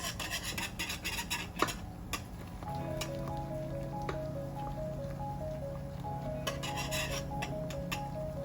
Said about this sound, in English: you're just going to whisk